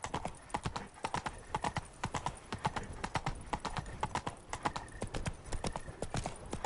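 The horse Roach's hooves clip-clopping in The Witcher 3: Wild Hunt on PS5, a steady, brisk rhythm of sharp hoof strikes throughout, fairly faint and not masked.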